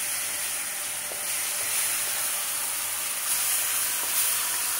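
Sugar syrup pours slowly into hot semolina halva, raising a continuous bright sizzle and steamy hiss, steady and close, with faint stirring clicks and no talking.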